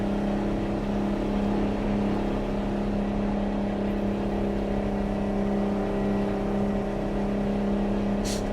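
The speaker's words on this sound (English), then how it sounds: "I think the noise pollution on this engine alone would mean most towns wouldn't accept it." A truck engine in a truck-driving video game hums and drones steadily at close range for over eight seconds with an even, sustained tone and no distinct revving peaks.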